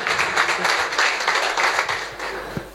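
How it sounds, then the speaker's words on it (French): An audience applauds at an event, a brief burst of dense clapping that fades toward the end. "on peut l'applaudir bien fort"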